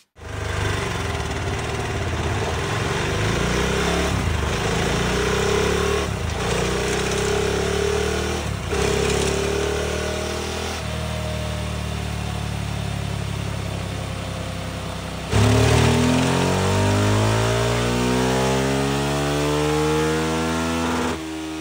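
A tuned KTM Duke 690 single-cylinder motorcycle with an ECU remap and high-flow filter, running on a Dynojet dyno, revs loud and close in repeated pulls that rise in pitch, cut back and climb again.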